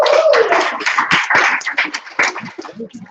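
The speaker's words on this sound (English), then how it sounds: "Round of applause there, please." A round of applause for a small group at a community media workshop, hands clapping in an uneven burst that starts loud and gradually thins out, with a voice briefly over the start.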